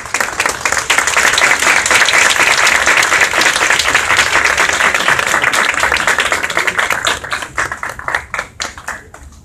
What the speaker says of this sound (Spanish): Un aplauso para el arquitecto Armando Román, el arquitecto Criollo y el arquitecto Daniel Juárez